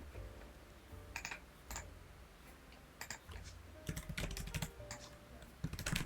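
Someone types code on a computer keyboard in quick irregular bursts of close, soft key clicks, with pauses between runs, quiet and alone.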